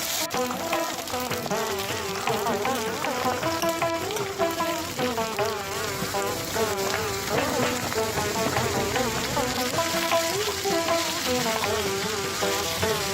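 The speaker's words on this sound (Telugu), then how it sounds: "అల్లం వెల్లుల్లి పేస్ట్ వేసి పచ్చివాసన పోయే వరకు వేగాలి" Ginger garlic paste and raw papaya pieces fry in a pan with a steady, dense sizzle that holds evenly throughout, alongside a louder tonal layer.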